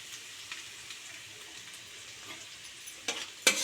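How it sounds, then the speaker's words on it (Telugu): Crushed garlic frying in a mix of ghee and oil gives a faint, soft sizzle with light stirring clinks, and a sharp metallic scrape near the end. "ఇప్పుడు మనం ఈ ఆయిల్లో ఫ్రై అవుతున్నాయి కదండి"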